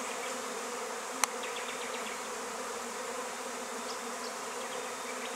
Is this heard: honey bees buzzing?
yes